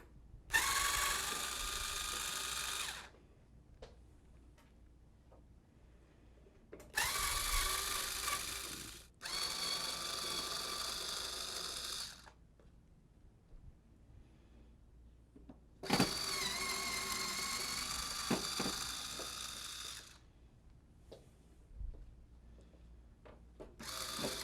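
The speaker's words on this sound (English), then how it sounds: "we're going to remove our 4 screws on the top first and then our 3 screws along the bottom edge" A power screwdriver removes screws from the front cover of an SKS 48-inch dual fuel oven, whirring in four separate close bursts of a few seconds each with quiet pauses between.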